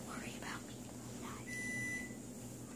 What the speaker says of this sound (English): The oven's beeping.